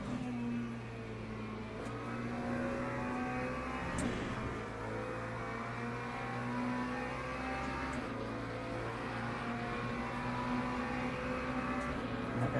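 Race car engine in the sim game Le Mans Ultimate, a steady droning roar with shifting tonal harmonics as the car brakes and gears down, continuous and moderately loud with no voices.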